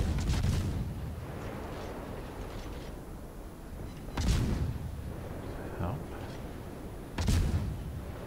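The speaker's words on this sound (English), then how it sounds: "So I got at least two down there firing on me." Enemy naval guns fire in the warship battle game World of Warships: three heavy, rumbling booms spaced a few seconds apart over a continuous low roar.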